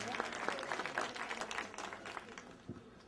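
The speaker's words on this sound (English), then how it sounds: "So let's give them a final round of applause." An audience at a library branch renovation opening claps in a dense round of applause that is fairly faint and distant, thinning toward the end, with a few voices mixed in.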